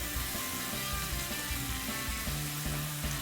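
Bacon rendering its fat in a pan, a loud close, continuous sizzle and crackle filling the whole moment with no talk over it.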